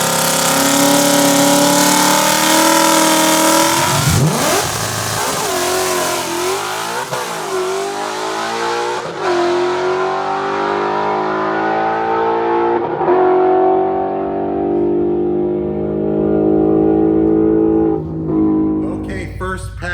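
A loud Coyote V8 in a Mustang roars through hard acceleration on a drag pass, rising in pitch across several gear shifts before fading into the distance.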